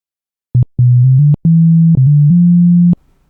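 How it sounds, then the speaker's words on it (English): Voltage Modular synthesizer basic patch with a plain sine-like tone, keys pressed to play a few short then longer held notes at different pitches, loud and clean, no voices. "now when we press a key, we can hear different notes."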